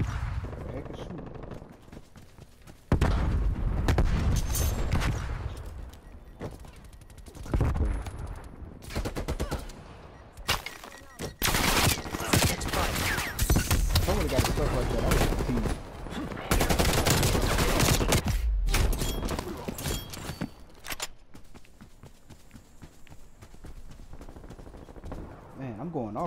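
Rapid bursts of automatic gunfire and single shots crack through a Call of Duty Black Ops Cold War multiplayer match, loud and close in repeated clusters separated by brief lulls, with a player talking over the action.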